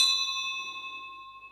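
A small hand bell, its loose clapper refitted after falling out, gives one bright ring that sustains and slowly fades, heard close and alone.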